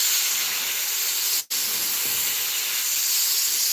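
An airbrush sprays paint onto a 1/48 scale Italeri Hawk model with a steady, close, bright hiss that cuts off for a moment, then carries on alone.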